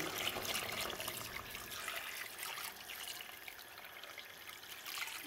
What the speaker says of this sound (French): Après la viande, on rajoute de l'eau.